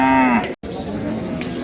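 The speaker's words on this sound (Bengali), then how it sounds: "চমৎকার একটা বাছুর দেখেন বকনা বাছুর" A cow with her calf at a Rajshahi city cattle market gives a long, close moo that breaks off, then a second, lower moo follows over market background.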